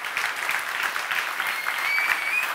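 Dense, steady audience applause from a gathered crowd, fairly loud and unbroken for its whole short length with no voices over it.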